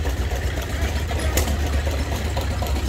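Several car engines idle at an outdoor car show, a steady low rumble with a faint knocking texture that stays loud and constant throughout.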